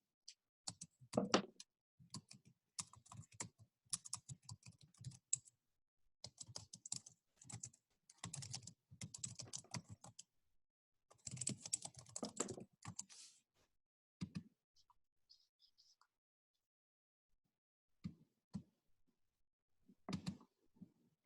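Typing on a computer keyboard in quiet bursts of rapid key clicks separated by pauses, close and faint, with longer gaps of silence toward the end.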